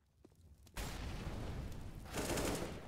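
Gunfire in a CS:GO match gives a dense burst of rapid shots with a heavy boom. It starts suddenly after a quieter moment and stays loud, rising again near the end.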